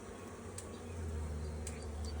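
Honeybees buzzing at an opened hive after a swarm relocation, a steady low drone close by, with the odd brief louder buzz as single bees pass near.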